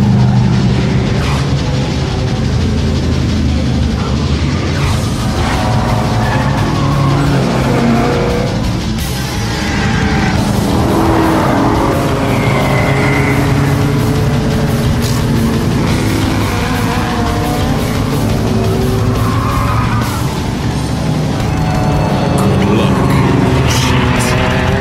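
Cartoon toy cars racing, with a continuous loud engine roar, revving and occasional tire squeals that run without a break under background music and voices.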